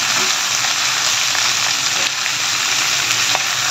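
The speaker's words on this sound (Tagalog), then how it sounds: "Imikos-mikos muna natin ang ating kalderitang baka." Beef caldereta with sautéed onion and garlic sizzles and hisses loudly and steadily in a pan as it is stirred, with faint scraping, close by and without talk.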